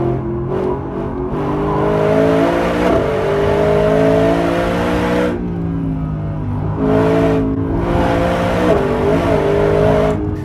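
A Mercedes-Benz SLS AMG Black Series road-going race car revs hard, its loud engine rising and falling through several gear changes as it accelerates past, with brief lifts between pulls.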